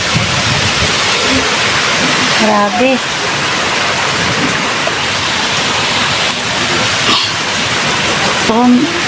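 Heavy rain from Typhoon Uwan roars in a dense, constant wash with gusting wind, loud and close, while a voice briefly speaks over it.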